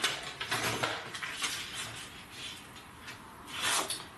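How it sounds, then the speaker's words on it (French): Paper being cut into a rectangle for a scrapbooking project, a soft continuous scratchy rasp with a few brief brighter scrapes, close and quiet with no talking. "Alors, je vais couper le rectangle ici."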